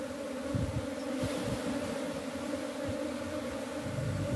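Apis cerana bees buzzing steadily around a wooden hive box, a dense, continuous drone of many insects close by with no break.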